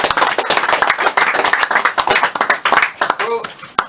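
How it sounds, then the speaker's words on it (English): Guests clap for Stanley Chambers, a 100-year-old WWII pilot, at a gathering. Sharp, close claps come in quick irregular bursts from a small group, loud and dry, with a voice breaking through near the end. "That's worth applause."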